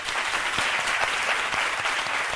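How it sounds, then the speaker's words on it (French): A live comedy-show audience claps, a steady, close, continuous burst of applause from many hands with no voices over it. "On peut s'applaudir encore, s'il vous plaît."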